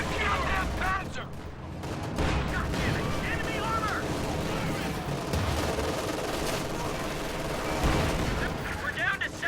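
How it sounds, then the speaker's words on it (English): Stormovik aircraft strafing in a WWII strategy game, a dense, continuous rumble of gunfire and explosions with a few louder bursts, while someone talks over it. "And a Stormovik strafe."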